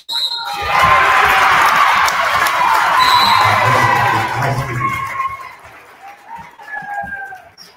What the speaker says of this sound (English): As you can hear the crowd kind of getting intense as we approach the 5-minute mark in the fourth quarter.